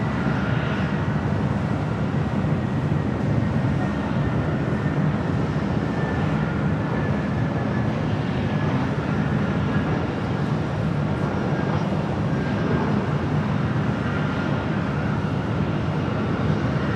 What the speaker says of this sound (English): Next arrival, Delta Airlines Flight 913 coming in from Detroit,